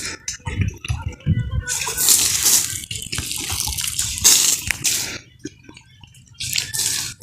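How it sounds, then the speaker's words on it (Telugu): Water splashes and sprinkles onto dry ground in a mango orchard on a hot day: bursts of hissing spatter with drips and wet slaps between them, close and fairly loud. "నీళ్ళైతే చల్లుకుంటున్నాము"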